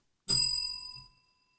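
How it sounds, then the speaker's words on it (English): A single bright bell strike rings out clearly and decays over about a second, with a sustained metallic tone and no voices. "Ring the bell, please."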